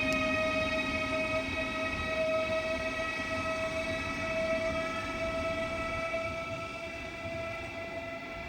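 A high-speed train on HS1 passing Ebbsfleet International, a loud sustained rumble with a steady high whine and tonal hum holding throughout, slowly easing as it goes by.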